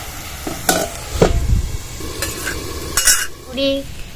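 Pui fruit frying in a pan is stirred with a utensil, giving scraping strokes and clinks over a steady sizzle, close and fairly loud.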